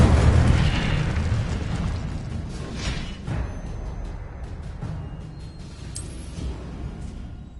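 Incendio fire spell cast in the Hogwarts Legacy video game, a loud whooshing burst of flame that swells at the start and then rumbles and crackles as it fades over several seconds, with no voices.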